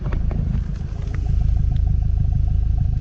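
A Volkswagen MK7 GTI idles through a Remark aftermarket exhaust with a low, throaty rumble and a steady pulsing burble, close and loud, with faint clattering on top.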